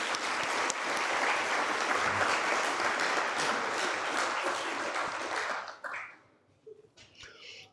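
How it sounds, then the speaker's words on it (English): Audience applause at a government budget vote address, a dense roar of many hands clapping for nearly six seconds before fading out quickly into brief talk. "We must give you a big round of applause"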